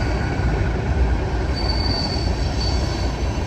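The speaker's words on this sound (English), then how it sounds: "First train, and there's the other one." Trains rumble past on the Pittsburgh line near the Staple Bend Tunnel, a steady loud roll of railcars with wheels squealing faintly over the track, no voices.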